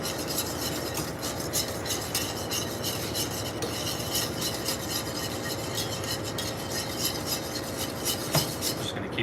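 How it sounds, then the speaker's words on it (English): Milk being whisked slowly into a roux for mushroom truffle mac and cheese in a pan, a steady close scraping and stirring with faint clinks of utensil against the pan, no speech. "Just gonna keep adding our milk slowly."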